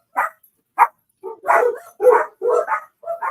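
Dogs barking at someone at the door of a home: a series of sharp, fairly close barks, two quick single yaps followed by a run of louder, fuller barks in an uneven rhythm, with no talking.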